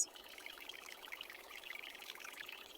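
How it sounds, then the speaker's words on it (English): Water is poured steadily onto houseplants from a watering can in a continuous soft, splashy stream, faint and close, with no voices. "I water the plants."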